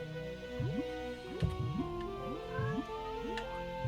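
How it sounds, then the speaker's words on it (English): Several quick, rising cat meows from Banjo-Tooie repeat in an irregular series over a steady, low game background. "Meow."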